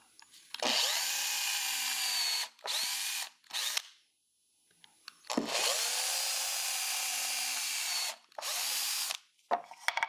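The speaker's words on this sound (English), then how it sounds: "And now we drill our holes." A power drill whines in several long bursts, two extended runs with short pulses between them and a brief pause in the middle, loud and close, drilling holes.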